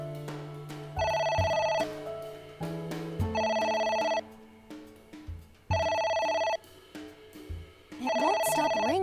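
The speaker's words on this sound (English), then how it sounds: "It won't stop ringing." A telephone rings in the video game Ai: The Somnium Files, repeating in four steady bursts of electronic trilling over game music, with faint voices in between.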